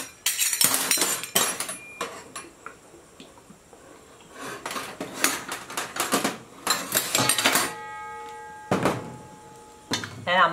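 A utensil clinks and scrapes repeatedly against a bowl while wet ingredients including ghee and maple syrup are mixed, in bursts of rapid close-up tapping separated by brief pauses.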